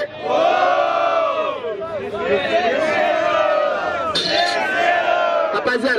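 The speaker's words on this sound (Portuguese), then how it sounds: "Barulho mão pro outro que gostou mais das rimas do MC Johnny" Crowd at a 2016 freestyle rap battle in São Gonçalo roaring and cheering for a rapper, a loud sustained mass of shouting voices with a brief sharp burst of whistles or yells near the end.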